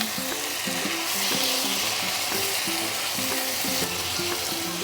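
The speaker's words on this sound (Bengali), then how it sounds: "সমস্ত মশলা দিয়ে আমি এটাকে আবারও ভালো করে নাড়িয়ে নিচ্ছি" Spice paste frying in a pan for an egg and cauliflower curry, a continuous close sizzle with repeated rhythmic scrapes of a spoon stirring through it.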